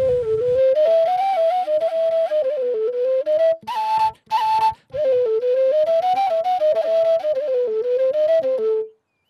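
A caval, the long Balkan end-blown flute, plays the second part of the Hora Balako dance tune, a loud, close, ornamented melody held almost continuously, with two short pauses midway for breaths.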